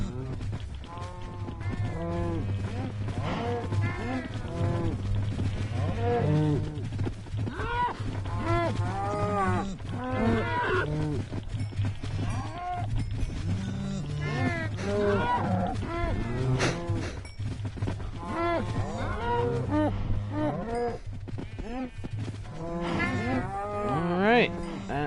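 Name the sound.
cows mooing while being fed in Minecraft video game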